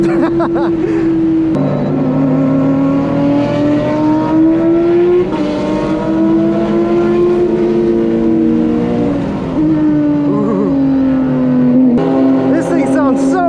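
Race car engine droning steadily through a warm-up lap at Watkins Glen, its pitch sliding up and down with gear changes while a Porsche runs alongside; loud and continuous in-car, with voices talking over it.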